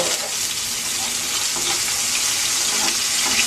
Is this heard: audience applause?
no